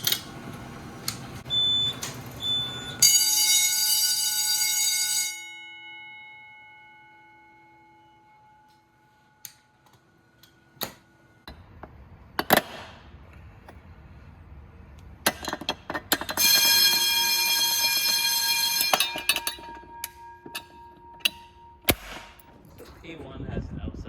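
Fire alarm bells and horns going off during testing of the system at a 1990s elementary school, with loud ringing bursts that start and stop, sharp clicks and knocks, quieter gaps in between, and occasional voices nearby.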